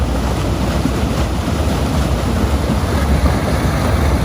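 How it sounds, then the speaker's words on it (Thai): At a water pumping station, water is pumped out into the Chi River as a loud, steady, unbroken rushing roar of churning water, close by and constant throughout. "ก็เลยใช้เครื่องสูบน้ำนะครับ สูบออก จากห้วยปากวงนะครับ"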